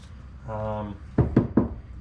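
Three firm knocks on a Honda CR-V rear quarter door panel, each a quick hollow thud spaced evenly, close up, following a brief voice.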